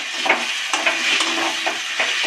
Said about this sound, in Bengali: সমস্ত উপকরণগুলো একসঙ্গে নাড়তে থাকবো। এর মধ্যে আমি কিছুটা চিংড়ি মাছও দিয়ে দিলাম।